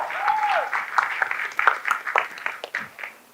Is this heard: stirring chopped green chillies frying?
no